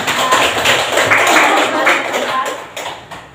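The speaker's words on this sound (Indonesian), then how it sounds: "terima kasih tepuk tangan" Dense applause from a group in a classroom, a steady wash of many hands clapping that fades slightly toward the end.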